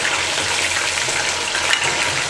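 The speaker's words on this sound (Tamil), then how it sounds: "மீடியம் ஃப்ளேம்லேயே நம்ம சிக்கனை நல்லா வேக வைக்கணும்." Chicken pieces for chilli chicken frying in hot oil over a medium flame, a dense, continuous loud sizzle heard up close without talk.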